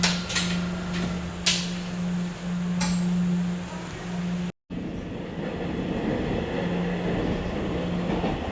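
A metro train in the city rumbles steadily with a low hum and some rattling clatter, a brief dropout midway, then continued rolling noise close by.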